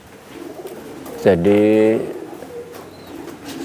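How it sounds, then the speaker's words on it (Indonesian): Homing pigeons raised for high-flying competition give a loud, close, harmonic coo lasting under a second, set against quiet room noise with a brief spoken word before it. "merpati betina dan merpati jantan yang produktif"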